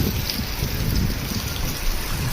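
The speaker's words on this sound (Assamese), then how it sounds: "বহুত জোৰকৈ বৰষুণ দিছে।" Heavy rain drums down at a road construction site in Basistha Chariali: a thick, continuous roar of falling water, loud and unbroken, with no talking.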